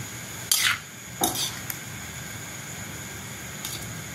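Bottle gourd and chana dal being stirred in a pan over high heat, with a few scraping clanks of the spoon against the pan, then a soft background simmer.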